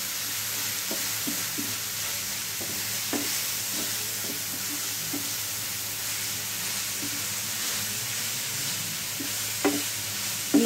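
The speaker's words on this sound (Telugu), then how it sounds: "ఇలా మిల్ మేకర్ అనేది వేసేసుకొని మనం ఇలా కలిపెట్టుకుందాం" Meal maker soya chunks stirred through masala in a frying pan over low flame, a steady sizzle with scattered scrapes and taps of the spoon throughout, fairly close and without talk.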